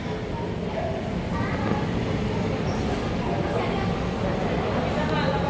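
A Parahyangan economy-class passenger train on the Jakarta–Bandung line at the station platform, a steady loud rumble with broadband hiss and a constant low drone that never lets up.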